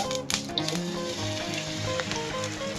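Maggi dosa batter sizzles in hot oil in a pan, a steady crackling fry under faint background music throughout the short stretch.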